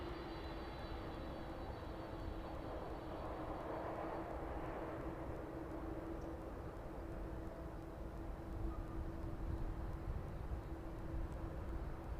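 An aircraft taxies toward the DHL cargo apron at East Midlands Airport in the evening, its engines a steady, moderately distant hum with a sustained whine that holds evenly throughout, with no voices.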